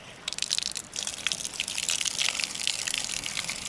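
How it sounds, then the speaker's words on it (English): Holy water gushing from a dragon-shaped fountain at the sacred site of Oropa in Italy, a steady loud splashing rush with bright spattering drips, heard up close and alone. "this is water. That's holy water. With this dragon."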